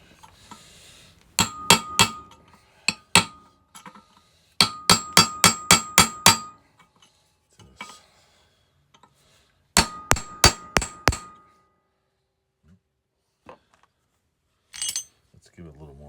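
A hammer drives a chisel against the bearing races of a Honda motorcycle triple tree, making sharp metallic clangs in quick bursts of several strikes, separated by pauses.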